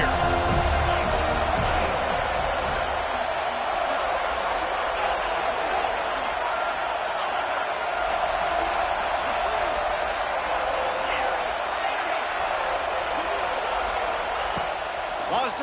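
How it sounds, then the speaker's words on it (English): Home football crowd roaring in a video game at third and goal, a steady broad crowd din heard under continuous commentary-style talk throughout. "Man, this crowd really affecting the football game."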